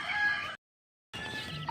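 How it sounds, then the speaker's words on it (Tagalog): Hen and chicks outside a coop give brief clucking and chirping calls, split by a short dropout of silence, with no talk over them. "nandito na po yung ating 9 na sisiw"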